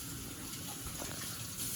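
Tap water runs steadily over a child's hands during a hand wash before making a smoothie, a continuous, fairly close rushing gush with no speech.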